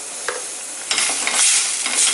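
Fenugreek (methi seed) kulambu bubbling in a pan, a steady close-up sizzle and simmer with a brief soft knock early, then a fuller, brighter bubbling that continues to the end, no voices.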